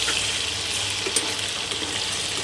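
Paneer cubes fry in hot oil in a pan, giving a steady, even hiss and sizzle with no voices over it.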